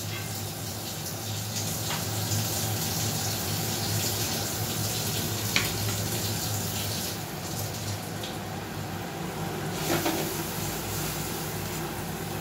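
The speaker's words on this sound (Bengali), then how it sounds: "এই ধোয়া জলটা আমি দিয়ে দিচ্ছি।" Washing water poured from a vessel in a home kitchen while cooking paneer masala, a steady running splash lasting throughout, moderately close with faint clinks.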